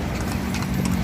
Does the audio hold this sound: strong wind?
no